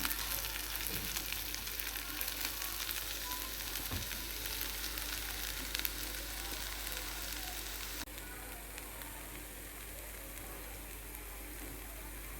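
Spinach and brinjal curry with mango and coriander sizzles steadily in a pan on the stove, a continuous close frying hiss with faint stirring scrapes, no voices.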